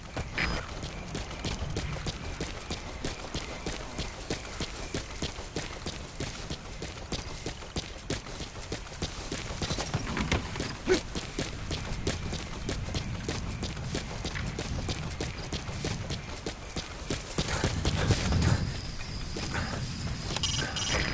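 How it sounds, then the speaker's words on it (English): Horse hooves clip-clopping at a steady pace in the video game Metal Gear Solid V: The Phantom Pain, a continuous rhythmic stream of hoofbeats over game ambience, with a louder surge near the end. "Use your horse."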